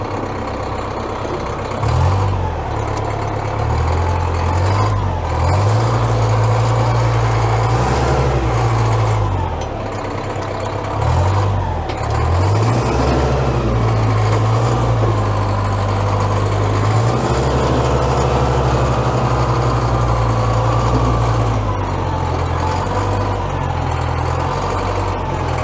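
An old Caterpillar loader, dead for over a year, runs with a loud, steady low diesel rumble as it drives onto a trailer, its engine note rising and dipping a few times with load, close by and alone.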